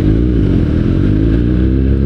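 A motorcycle rides along at a steady, loud engine drone that holds constant throughout, its low rumble close and continuous with no voices over it.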